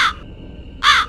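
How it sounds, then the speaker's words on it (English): A black crow perched on a tree branch gives two loud, harsh caws close by, one at the start and one near the end, with a quiet pause between them. "Matt looked up and saw a crow perched on a tree branch above him."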